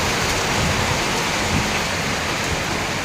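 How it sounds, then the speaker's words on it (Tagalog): Heavy rain pours in a dense, constant roar, with gusting wind blended into the steady wash of noise. "Sobrang lakas ng ulan, ulan at saka hangin mga kaibigan."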